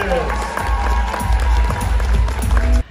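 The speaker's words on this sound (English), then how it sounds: "round of applause" Applause and some cheering from a convention crowd greeting cosplay judges at Holiday Matsu, loud and close, with voices and music mixed in beneath the clapping.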